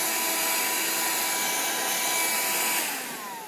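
A Shark vacuum cleaner runs steadily nearby with a constant whining hum that eases off near the end, no voices present.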